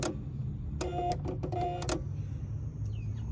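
A Yamaha R15 electronic throttle body whirs open and closed, two short mechanical motor bursts in quick succession, close and quiet against a low background hum.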